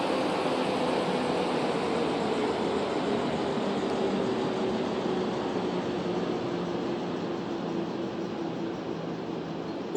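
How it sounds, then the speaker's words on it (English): Train approaching in the Rail Route video game, a broad steady rushing rumble with a faint droning tone, continuous and even in loudness throughout. "Sounds like we've got a train approaching."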